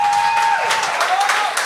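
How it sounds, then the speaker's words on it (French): A studio audience at a French-language talent show applauds a contestant, a short dense wash of clapping with a few voices mixed in. "on l'applaudit, là"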